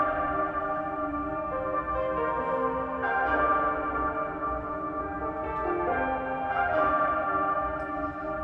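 A Cymatics Fantasy sample-pack synth loop plays on its own: bright, bell-like layered tones sustain steadily, with the chords shifting every few seconds at an even, moderate loudness.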